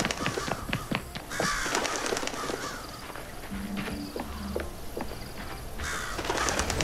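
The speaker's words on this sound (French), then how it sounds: "Voilà, les corbeaux, ils sont là-bas." Crows caw repeatedly in Hello Neighbor 2 at night near a manor, with clip-clop steps and game ambience underneath; the caws come in scattered bursts at moderate loudness with no talk.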